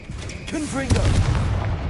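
A Confringo blasting spell is cast in the Hogwarts Legacy video game, with a brief voice just before a loud, punchy blast. The blast rolls into a rumbling, crackling aftermath.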